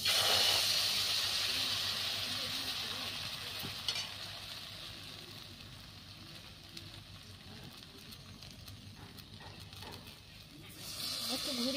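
Semolina and egg batter sizzles in a spoonful of hot oil in a pan, a soft steady hiss that fades slightly with a brief clink, while someone talks over it.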